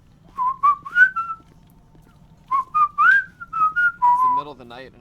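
A video game character in GTA V whistles a bright melodic tune in two separate phrases with a pause between, each made of short gliding notes, clear and close.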